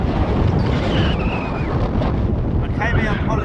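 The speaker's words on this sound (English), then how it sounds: "gusting 30 mile per hour winds" Strong wind gusting at around 30 mph on a Fuerteventura beach in the Canary Islands roars steadily and loudly across the microphone, with a voice briefly audible partway through.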